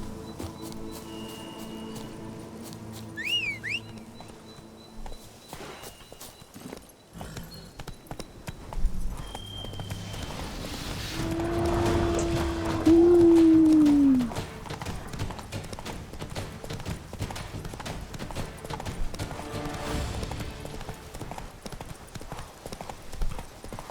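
Steady clip-clop of a horse's hooves galloping in The Witcher 3: Wild Hunt, running through the whole stretch at a brisk rhythm, with brief game sounds and faint speech in places.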